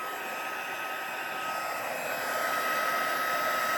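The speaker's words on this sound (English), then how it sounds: "Now I'm going to take my heat tool and I'm going to let it heat up for a second" A heat tool for embossing powder on a stamped snowflake card blows with a steady, loud whooshing hum as it warms up, alone and slightly rising in strength.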